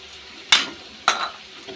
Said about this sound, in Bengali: এই যে মাংসটা এখনও রান্না হচ্ছে, এখন দিয়ে দেব গ্রেট করে রাখা রসুনটা